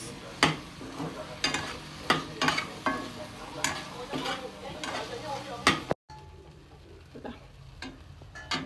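Choila, a spiced meat dish, is stirred with green chillies in a pan, giving repeated scraping strokes over a soft sizzle, close and steady. A brief cut leaves a quieter stretch of faint sizzling with a few light taps.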